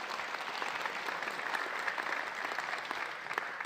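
Soft, distant applause from a compliance officers' conference audience rolls on evenly throughout, a continuous wash of clapping without clear voices.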